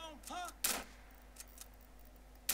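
Shotgun fire in the video game GTA San Andreas: one loud sharp blast followed by fainter distant shots and another sudden report at the very end, over quiet game ambience.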